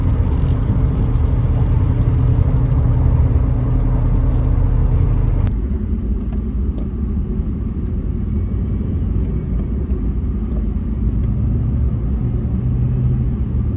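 Car rolling through stop-start traffic, a steady low road and engine rumble heard from inside, with a slight change in tone partway as the vehicle eases along.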